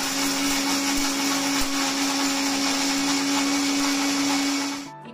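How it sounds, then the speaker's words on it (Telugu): A mixer grinder whirs steadily and loudly as it grinds roasted lentils for a tamarind chutney, holding one even tone for about five seconds before cutting off at the end. "ఇప్పుడు వీటిని మిక్సీ వేసుకుందాము"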